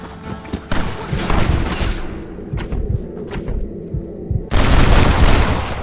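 Gunfire in Red Dead Redemption: a loud mix of thumping shots and bursts through the first half, a few sharper cracks midway, then a dense loud volley near the end.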